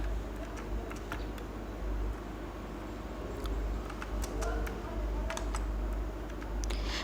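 Typing on a computer keyboard produces sparse, irregular, sharp key clicks over a steady low background hum.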